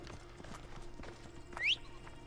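A horse trots in the video game Assassin's Creed Odyssey, its hooves making a faint, steady clip-clop rhythm, with a brief high whinny-like cry near the end.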